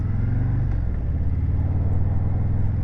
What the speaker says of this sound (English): this bike is fun to ride